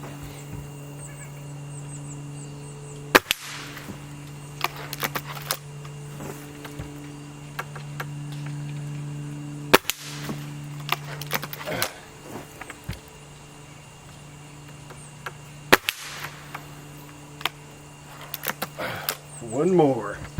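Gamo Magnum .22 pellet rifle fired outdoors, three sharp, isolated cracks spaced several seconds apart, with light handling clicks and faint background noise between shots.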